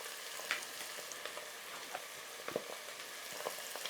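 Fried rice with black pepper is stirred in a hot pan, a soft steady sizzle broken by irregular scraping clicks of the utensil, close and fairly quiet with no talking.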